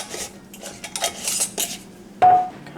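Bacon drippings being worked into flour in a bowl for old-fashioned bacon grease biscuits, heard as close, irregular clinks and scrapes of a utensil against the bowl, ending in a sharper ringing knock.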